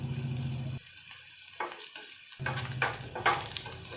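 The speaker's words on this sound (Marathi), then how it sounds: "आणि एक मोठा कांदा बारीक कापलेला टाकून चांगलं हलवून घ्यायचं" Finely chopped onion is stirred in a frying pan with salt, curry leaves and turmeric, giving a soft sizzle and scraping under the tool, with a brief break in the middle before the stirring comes back.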